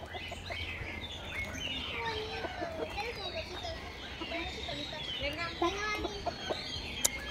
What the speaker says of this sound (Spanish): Son como gallinas, pero están como peludas.